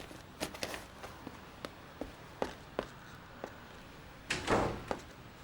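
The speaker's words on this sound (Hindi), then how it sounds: "दरवाजा बंद कर दो।" A door in a house is pushed shut, with several light knocks and handling taps, then a louder thudding close near the end, all fairly near with no talking.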